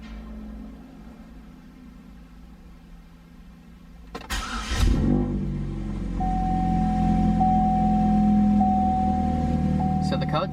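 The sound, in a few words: car engine starting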